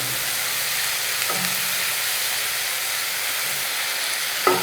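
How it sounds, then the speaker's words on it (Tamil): Tomatoes with turmeric sautéing in a pan give a continuous loud sizzle and hiss that hold steady throughout, with a faint clink near the end. "தக்காளியை போட்டுட்டு கொஞ்சம் மஞ்சப்பொடி போட்டிங்கன்னா இது நல்லா வதங்கணுங்க"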